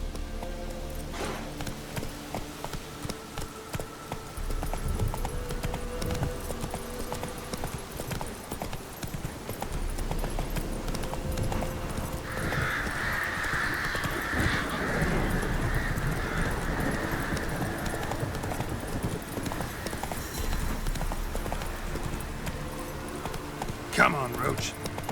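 Roach the horse gallops across Velen in The Witcher 3, a steady rhythmic clip-clop of hooves running throughout under game music and ambience, with a brief neigh partway through.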